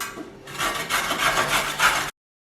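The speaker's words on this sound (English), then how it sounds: "we're literally just going to take those and grate them in a grater" Carrots being grated on a kitchen grater: close, rough rasping strokes in a quick repeated rhythm for about two seconds, then cutting off to silence.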